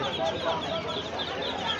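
Chickens cluck at a busy poultry market, with scattered bird calls under a dense crowd hum and nearby voices throughout.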